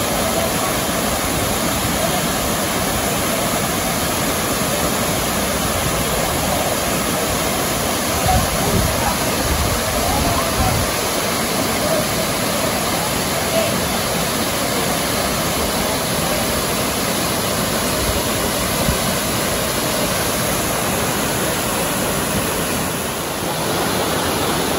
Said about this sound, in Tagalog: Ito yung Bolinao Falls number 3